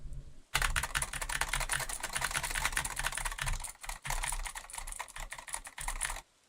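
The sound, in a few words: mechanical gaming keyboard typing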